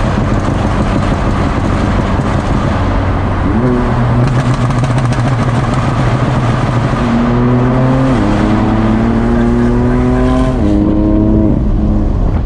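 A loud car exhaust roars and revs repeatedly, pitch climbing through gears, echoing heavily inside a tunnel with a constant rumbling wash.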